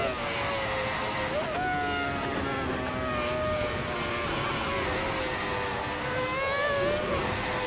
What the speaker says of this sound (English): Coming out to 220 miles per hour, puts it into fourth.